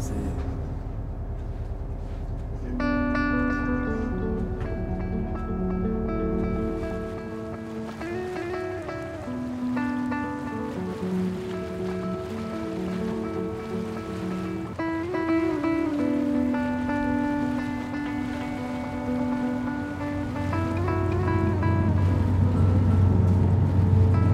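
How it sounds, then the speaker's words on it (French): A boat engine drones steadily and loudly throughout, its tonal hum shifting in pitch as it runs, with water and wind noise beneath. "Trop le bruit du moteur quand même."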